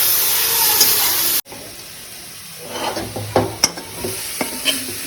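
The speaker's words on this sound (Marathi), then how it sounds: "आपली मेथी आता फ्राय झालेली आहे" Fenugreek leaves fry in a pan while being stirred. A loud steady sizzle cuts off abruptly, then quieter sizzling returns with intermittent scraping and clinking strokes of the spatula.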